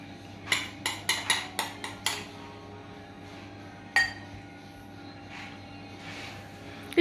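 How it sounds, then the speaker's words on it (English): Dishes and cutlery clatter during washing up in a home kitchen: a quick run of about seven sharp clinks, then one more clink a little later, over a low steady hum. "Are you doing the washing up?"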